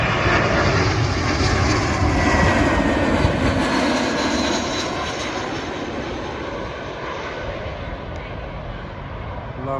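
A passenger plane on approach to land at Heathrow Airport roars loudly overhead with a broad, steady engine rumble that eases slightly as it passes, with no talk over it.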